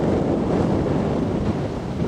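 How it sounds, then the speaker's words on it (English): Wind sweeps across an open field on a countryside walk, a loud continuous buffeting roar beating against the microphone, with no voices. "Wind seems to be picking up now."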